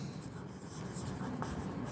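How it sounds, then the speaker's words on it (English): A pencil scratches steadily across paper while a straight line is ruled against a scale for a glass-slab diagram, continuous and close up, without any talking. "You draw it with the help of the scale and pencil."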